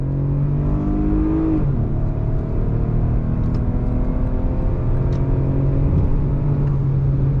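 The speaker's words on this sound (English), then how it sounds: "But we're gonna get out onto the highway here in high rush hour traffic just to make it a little bit more exciting. But on throttle, here we go." A 2021 Lexus RX 350 F-Sport Blackline Edition SUV accelerates onto a highway in rush hour traffic, its engine rising steadily in pitch through a gear change under a constant road rumble, heard from inside the cabin.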